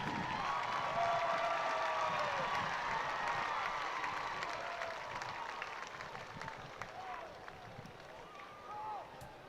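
Large arena audience applauding entries at a Tennessee Walking Horse championship horse show, a broad sustained roar of clapping and crowd noise that slowly fades, with an announcer talking over it.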